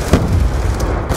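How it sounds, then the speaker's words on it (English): A grenade explosion in the video game Black Ops 2, a brief dull thump inside a dense rumbling wash of battle noise, loud and close. "Throwing grenade!"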